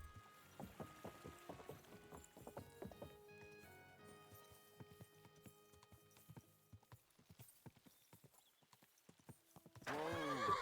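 Hooves of a horse clip-clop in an uneven series of soft, close knocks beside a river, with a brief whinny-like sound and a surge of water or wind noise at the end.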